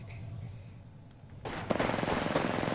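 Gunfire erupts in an Apex Legends match: after a quiet stretch with faint background noise, a sudden burst of rapid automatic shots rattles on, fairly loud and dense, continuing to the end.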